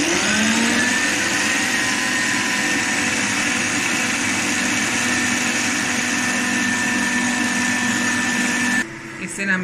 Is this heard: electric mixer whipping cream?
yes